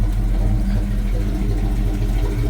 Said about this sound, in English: I like the way this old truck sounds. It's got a little small cam in it.